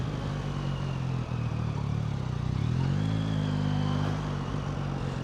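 A 2024 Yamaha MT-09 Y-AMT motorcycle engine drones steadily while riding, its loud mid-low hum rising briefly in pitch as it accelerates, with wind noise continuous throughout and no talking.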